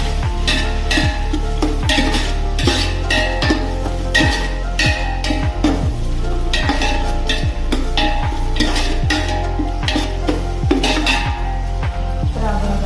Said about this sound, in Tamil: ஸோ இதில் அளவாக போட்டு நல்லா இதை வதக்கி விட்டுருங்க.